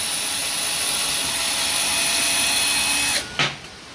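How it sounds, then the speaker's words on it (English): A power drill whines at a steady high pitch for about three seconds while pre-drilling a hole in wood, then stops abruptly with a brief clunk. "now I'm going to pre-drill this hole"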